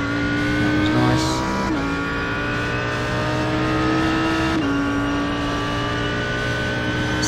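An Audi R8 GT3 race car in a racing video game at the Nürburgring combined 24h layout, its engine a loud steady whine with a couple of sharp gear-shift steps and brief tire noise.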